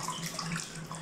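Steady running water pours while a kitten is showered, a continuous close splashing wash with no speech.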